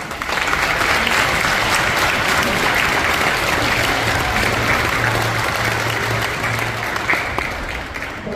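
An audience claps at a Christmas school show, with dense, sustained applause at close range that holds steady for several seconds before easing slightly toward the end.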